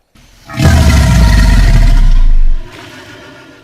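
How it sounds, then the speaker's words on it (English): A deep, powerful Deinosuchus territorial bellow, deeper than an alligator's, rises abruptly, holds for about two seconds, then cuts off, with a faint trailing rumble. "The bellow sound, far deeper and more striking than a gator's bellow."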